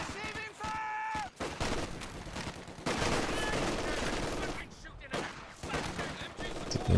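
Machine gun fire in a World War II strategy game match, loud rapid bursts of gunfire and battle noise that stop and start, with a commentator talking over them.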